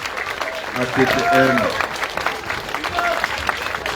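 Audience clapping for students at an event, with a steady patter of applause under a voice talking loudly over it, and a brief tonal sound partway through.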